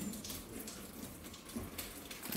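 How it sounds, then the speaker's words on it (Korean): Steady rain falling outside on a countryside morning, a soft continuous patter with scattered drops at moderate distance, no voices. "또 비가 오네요."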